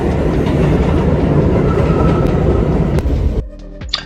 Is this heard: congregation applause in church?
no